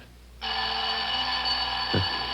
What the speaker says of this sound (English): Usually I have to wake and turn off the alarm in the morning.